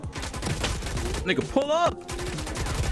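Rapid bursts of gunfire in a video game, a fast stream of shots running under excited voices talking throughout.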